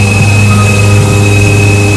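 A Mazak CNC vertical machining center runs with a loud, steady mechanical hum and whine as its Z axis moves. The tone holds even throughout, with no breaks.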